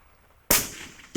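Gunshot fired at a light steel whitetail buck target, with the bullet striking mud behind it: one sharp, loud crack that decays quickly, then a shorter, softer impact about two-thirds of a second later, outdoors.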